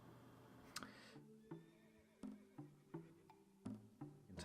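Horses neigh and whinny in the strategy game Civilization 4, a few clear calls and snorts sounding over a soft background of game music, with no talking.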